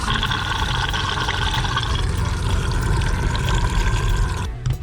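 A camper van's toilet rushes water down into its holding tank in a steady, fairly loud gushing flow that cuts off abruptly at the end.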